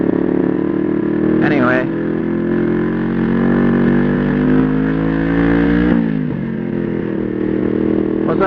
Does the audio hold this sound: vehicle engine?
yes